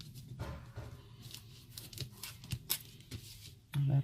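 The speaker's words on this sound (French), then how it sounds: "Je remettrai une bande parce que en fait, je l'ai collé légèrement de travers. Et une deuxième bande." A strip of adhesive tape is pulled and torn while making a photo album cover, heard as several short, close crackly rips and rustles at a low level, with a brief louder thump near the end.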